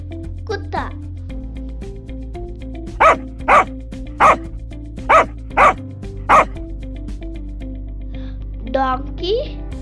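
A dog barks six times in a steady, evenly spaced series, loud and close, with a few faint whimpers before and after.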